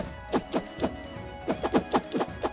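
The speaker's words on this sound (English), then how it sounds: "You can kind of hear a tick. That is the sound of armor." Short ticking clicks of armor being hit in the video game Defender's Quest: Valley of the Forgotten repeat irregularly, roughly eight to ten sharp taps spread over a couple of seconds, with no talking.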